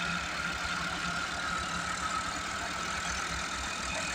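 A 260 tractor engine runs steadily during a tractor towing contest against a 385 tractor. A continuous, even mechanical drone holds at constant loudness throughout, with no talk.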